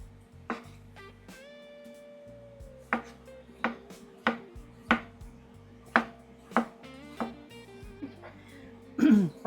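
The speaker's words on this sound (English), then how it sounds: "and then we're just gonna dice them." Kitchen knife dicing vegetables on a cutting board for homemade salsa: a dozen sharp, close chops in an uneven rhythm, with a faint hum underneath and a louder clatter at the end.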